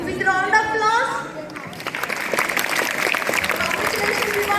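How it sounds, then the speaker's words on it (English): Clapping for a child author at a school book fest, starting as a speaking voice trails off and then a crowd of hands applauding steadily in a hall. "With round of applause"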